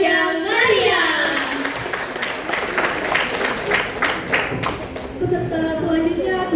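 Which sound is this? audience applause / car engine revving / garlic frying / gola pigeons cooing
audience applause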